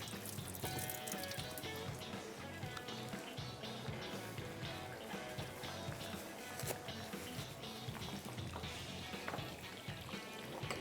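Hands being washed under running water at a sink in a kitchen, a steady loud stream with splashing and dripping throughout.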